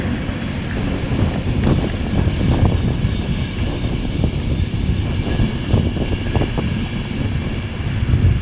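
An ÖBB EuroCity train rolls along a rerouted line around Augsburg, giving a steady low rumble with faint rhythmic clatter from the wheels, heard continuously from on board.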